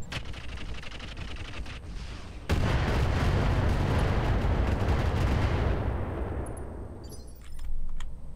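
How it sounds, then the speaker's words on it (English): Mech weapons fire in Roguetech, the BattleTech video game: a rapid rattling volley gives way to a loud, sustained roaring barrage that slowly fades, with a final thump at the end. "Alright, firing."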